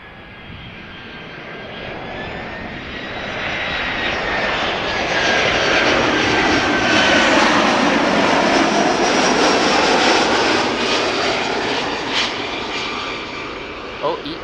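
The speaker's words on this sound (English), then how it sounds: "The first EasyJet A319 arrival from Stansted." An EasyJet Airbus A319 arriving at Amsterdam Schiphol from London Stansted, its jet roar swelling as it nears, peaking mid-pass and slowly fading, with a whining engine tone and talk over it.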